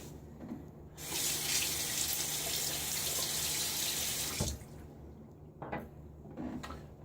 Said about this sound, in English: I'm going to rinse.